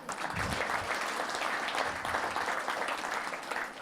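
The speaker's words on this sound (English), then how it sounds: "give yourselves all a round of applause for attending" Attendees at a Google test automation conference give themselves a round of applause, a dense and even clapping that carries on steadily for several seconds.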